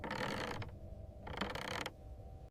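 Creaking wooden chair rocking on its own in an empty room, sounding as two long mechanical creaks with a short gap between them, fairly close and alone, then a brief knock at the very end.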